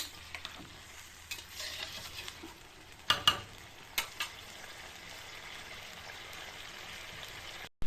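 Fish curry with potato and papaya sizzles steadily in a pan after water is added, with a few sharp scraping stirs near the middle, then the frying hiss continues alone until an abrupt end.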